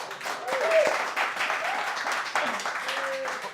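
Studio audience applauding a guest called Frankie, steady clapping of moderate size with talk running over it, fading toward the end.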